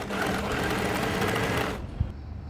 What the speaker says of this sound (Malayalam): ഫസ്റ്റ് ഞാനിവിടെ ബാക്ക് പാർട്ടാണ് സ്റ്റിച്ച് ചെയ്തെടുക്കുന്നത്.